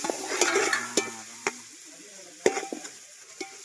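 Curry leaves and coriander fry in a pan, giving a soft sizzle broken by sharp clicks and scrapes of a spoon against the metal. The sizzle is strongest at first, then thins to scattered taps.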